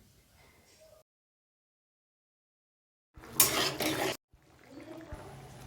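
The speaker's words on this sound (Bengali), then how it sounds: "জল দিয়ে একটু নেড়েচেড়ে নিচ্ছি" Cauliflower korma is stirred in a pan after water goes in, a short burst of scraping and sloshing between quiet stretches, with softer clatter afterward.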